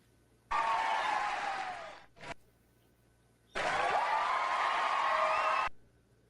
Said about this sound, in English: I can't give enough applause.